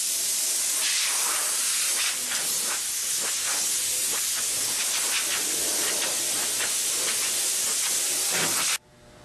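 A compressed air hose blowing dust off an aircraft wing in a paint spray room blasts a loud, continuous hiss with short bursts and pulses, then cuts off abruptly near the end.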